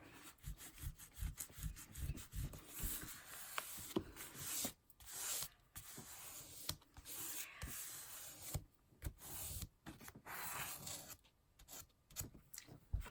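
Fingertips rubbing dried glue off a book page during book altering, a continuous close, dry rasping friction in uneven strokes with short pauses, no talking.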